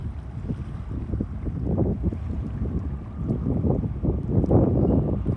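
Gusty outdoor wind buffets the microphone in a continuous rumbling roar that swells and eases, with no voice heard.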